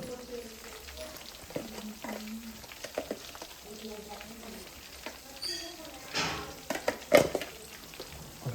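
Ginger garlic paste frying in a pan at home, a soft steady sizzle that swells into louder hissing bursts near the end, with a voice talking intermittently over it.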